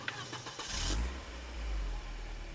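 A rental car engine starting: some clicks and a whirr, then the motor catches into a low, steady idling rumble.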